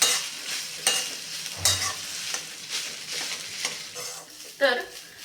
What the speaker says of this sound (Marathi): हा भात मी छानपैकी दोन ते चार मिनटे तुपावरती असा परतून घेतलेला आहे